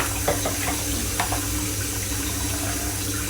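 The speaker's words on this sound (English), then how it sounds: "I'm just going to rinse this in the warm water to bring it up to temperature" Warm tap water runs steadily over leeks being rinsed in a kitchen sink, a close, continuous splashing stream with a few brief spattering bursts as the vegetable moves under the flow.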